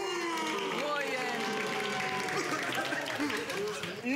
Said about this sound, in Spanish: Vamos a ver cómo están los gritos y aplausos para Number One.